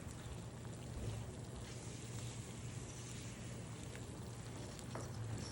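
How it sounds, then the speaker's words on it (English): Water poured into a thickening pasta sauce in a hot pan brings a continuous, even sizzle and bubbling hiss that holds steady throughout with no talking. "I'm going to add just a little bit of water"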